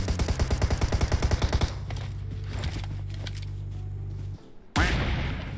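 Rapid automatic gunfire in PUBG Mobile, a loud burst of evenly spaced shots for about a second and a half, followed by a sustained low rumble and then another sharp loud blast near the end.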